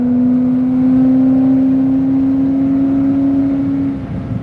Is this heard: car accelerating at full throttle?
yes